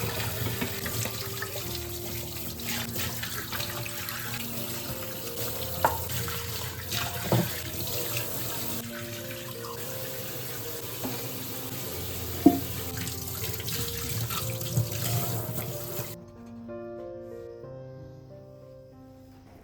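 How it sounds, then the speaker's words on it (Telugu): Tap water runs steadily into a kitchen sink while containers are washed, a constant close splashing rush with occasional clinks, stopping near the end to leave a quieter tail. "ఇక్కడైతే ఓవరాల్ కంటైనర్స్ అన్ని కూడా వాష్ చేసుకునేసి డ్రై చేసుకుందాం ఫస్ట్ అయితే"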